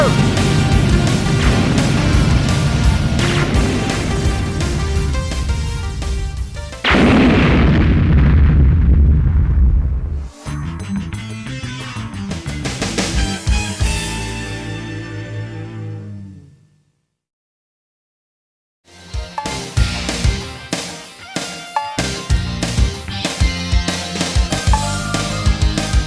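Gunfire and explosions from the 1995 PlayStation flight combat game Air Combat: loud, dense booms and rattling bursts over engine roar and music, then a short silence before more rapid blasts.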